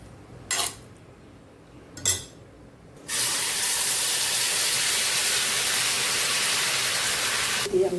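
A spice paste of ground poppy seeds and melon seeds hits a hot pan and sizzles loudly and steadily, following two sharp utensil clinks.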